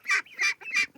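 Meat ducks kept on a property quack nearby, giving three loud, rasping honking calls in quick succession with short gaps between them.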